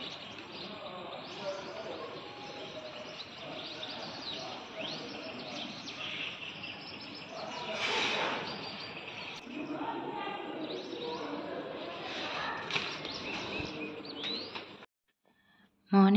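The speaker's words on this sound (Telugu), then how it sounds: "బయట ఈ వెదర్‌ని చూస్తూ పక్షులు శబ్దాలు చాలా ప్లెజెంట్‌గా ఉంటాయి చూడండి." Birds chirping outdoors on a morning, light tweets and calls scattered over a soft background hum until the sound cuts out just before the end.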